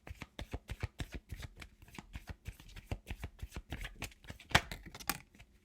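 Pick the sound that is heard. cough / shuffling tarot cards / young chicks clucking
shuffling tarot cards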